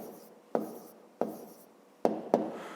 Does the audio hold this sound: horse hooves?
no